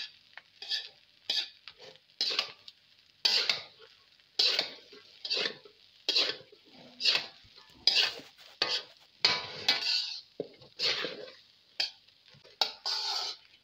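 A spatula scraping and stirring fried rice in a hot pan as black pepper and Chinese salt are mixed in, with quick rhythmic clattering strokes over a light sizzle, close up.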